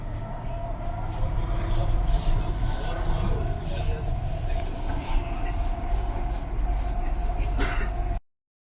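A train runs steadily throughout, with a continuous rumbling roar and faint tonal hums. The sound cuts off abruptly near the end, and no one speaks.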